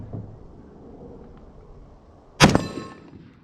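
A rifle shot rings off a distant metal target, a single sharp loud crack followed by a short ringing clang, after a couple of seconds of quiet outdoor background.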